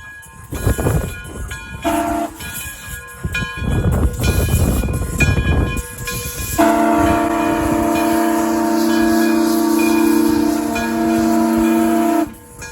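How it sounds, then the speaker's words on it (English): A 2-10-0 decapod steam locomotive, Frisco 1630, chuffs and hisses loudly nearby, then a long, steady steam whistle blows for several seconds before cutting off. "This locomotive has a 2-10-0 wheel arrangement, often called a decapod."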